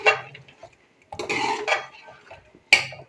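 Spices being mixed into mutton karahi in a pan, with a few short scraping, clinking stirs separated by pauses, close and moderately loud.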